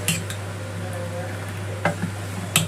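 Malpua batter of flour, semolina and milk being stirred in a bowl, soft swishing with a few sharp clinks of the utensil against the bowl, close and fairly quiet over a steady low hum.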